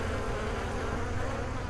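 Honey bees swarm around an opened beehive during honey extraction, a dense, continuous buzzing hum filling the air, close and steady with no voices.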